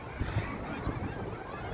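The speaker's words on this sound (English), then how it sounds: "There's the Canadian geese." Canada geese honking a few times in quick, uneven calls outdoors, moderately close, mixed with wind buffeting and a steady outdoor rumble.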